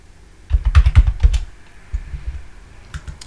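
Fingers type a password on a computer keyboard during masternode setup, giving a quick burst of close, clattering keystrokes followed by a few scattered, softer taps.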